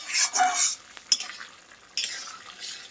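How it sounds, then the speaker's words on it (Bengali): Hot water poured into curry cooking in a hot pan sends up two hissing sizzle bursts, separated by a quieter stretch with a single sharp utensil clink against the pan. "এবার আমি একটু গরম জল দিয়ে দিচ্ছি এইটুখানি ঝোলেই হয়ে যাবে"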